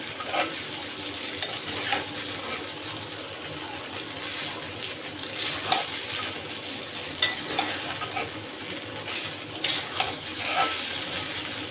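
Vegetable noodles frying in a pan over a full flame, a dense, loud, continuous sizzle with occasional spatula scrapes and clicks as they are tossed, close up and with no voices.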